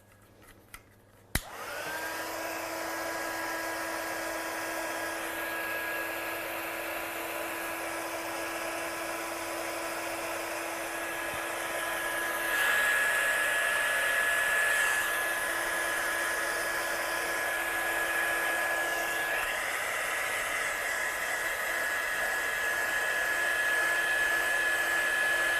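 A handheld hair-dryer-style heat blower dries ink on a craft project, switching on with a click and then running as a steady, loud whine and rushing airflow that shifts slightly in pitch partway through.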